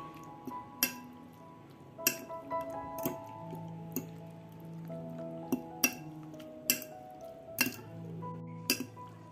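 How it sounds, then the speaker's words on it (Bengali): Chicken pieces and half an egg mixed together in a bowl, with a run of sharp, irregular clinks of utensil against the bowl, fairly close and clear with no voices over them. "এটাকেও আমি চিকেনের সাথে ডিমটাকে ভালো করে মিক্স করে নিচ্ছি।"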